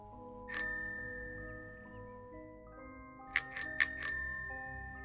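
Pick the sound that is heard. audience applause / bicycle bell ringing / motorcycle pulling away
bicycle bell ringing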